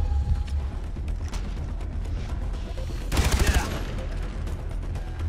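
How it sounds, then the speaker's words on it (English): Enemy shotgun fire in the video game Far Cry 3, scattered gun blasts with one loud burst amid a busy battle and the low rumble of the game, someone talking over it. "They got shotguns, that's what's getting me."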